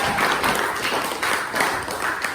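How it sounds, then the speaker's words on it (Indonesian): Classroom applause for a student who asked a question, a short burst of many hands clapping steadily and fairly close for a couple of seconds. "kasih tepuk tangan dong untuk temannya yang bertanya"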